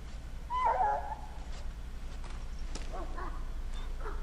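A dog in the video game Dragon Age: Origins gives a short, faint whimper near the start, followed by a few softer whines over a quiet, steady background hum.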